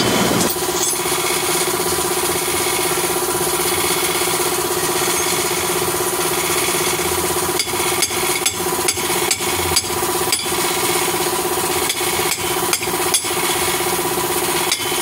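Under the steady drone of an idling engine, sharp metal hammer blows strike a Toyota Avanza brake drum to loosen it, coming in irregular bursts during the second half.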